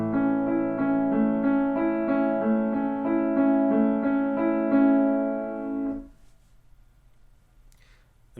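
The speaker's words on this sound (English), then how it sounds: "And you do that for 4 different sets of 16th notes" Piano playing a slow broken-chord accompaniment in sixteenth notes, a continuous stream of evenly spaced notes for about six seconds before stopping into near silence.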